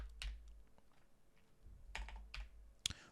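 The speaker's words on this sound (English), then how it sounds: "We're going to type in Orient." Keystrokes on a computer keyboard while typing into game-development software, a few scattered clusters of clicks with pauses between them, close and fairly quiet.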